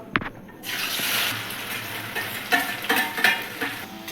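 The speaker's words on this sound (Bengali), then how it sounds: "তেল গরম হয়ে গেছে পেঁয়াজগুলো আমি ছেড়ে দিচ্ছি সব" A sharp clatter opens, then onions dropped into hot white cooking oil set off a broad hissing sizzle that rises and holds, broken by scraping stirs toward the end.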